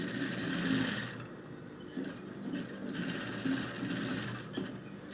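A sewing machine stitches fabric away from the edge, running in steady bursts with short pauses between them. No voices can be heard.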